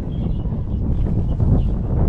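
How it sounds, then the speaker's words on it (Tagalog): Low, blustery wind buffeting the microphone in a continuous rumble, with faint rustling on top and no speech. "Ito yung hangin na."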